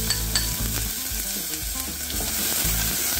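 Chopped onion sizzling in hot oil in a small pot, a steady close frying hiss running through the whole stretch with low bubbling underneath and no talking.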